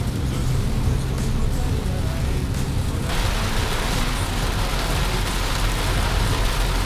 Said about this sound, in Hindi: फुल मानसून ड्राइव, खूब तेज़ बारिश हो रही है